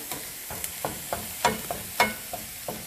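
Onions sautéing in a pan for a South Indian raw banana puttu, heard as a soft sizzle broken by a run of sharp, uneven clinks and scrapes from stirring, close and moderately loud, with no voices.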